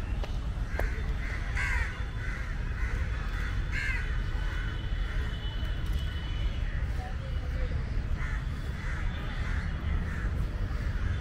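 Crows cawing outdoors around an empty public circle, repeated harsh calls in scattered bursts over steady traffic-like background noise, mid-distance and fairly clear.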